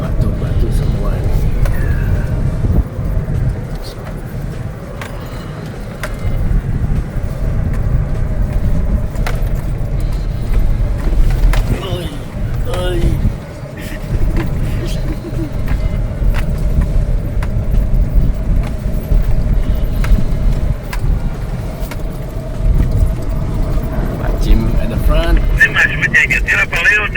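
A vehicle crawls slowly in first gear over a rocky track on Dirk Hartog Island, with a steady low engine rumble, faint wind buffeting and occasional knocks. People talk throughout.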